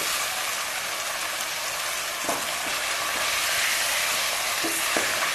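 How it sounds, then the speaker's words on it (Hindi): Potatoes fry in masala in a pan for a wadiyan aloo curry, a steady loud sizzle throughout with a few soft stirring knocks, close and continuous with no voices. "अब मैं इसमें आलू डाल दूँ और इनको भी 5 मिनट के लिए अच्छे से भूनूंगी मसाले में।"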